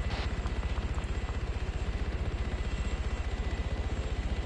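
A helicopter flying nearby but out of sight, its rotor making a steady, fast, rhythmic chop over a broad engine roar. The sound stays even and continuous, with no talk over it.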